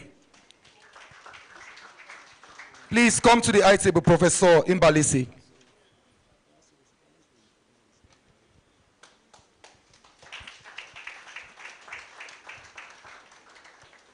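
Audience applause at a Clean Rivers Initiative ceremony: a steady patter of many hands clapping, fading out as a loud amplified announcer speaks, then rising again into a second round of moderate, room-filling clapping.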